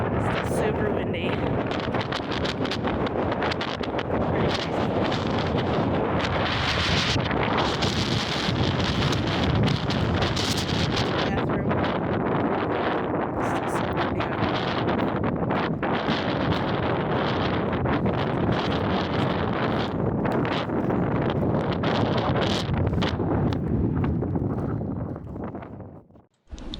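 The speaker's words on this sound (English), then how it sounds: "Super windy." Strong desert wind at Quartzsite, Arizona roars steadily and loudly across the microphone for the whole span, gusting and buffeting with rustling, then dropping away abruptly at the very end.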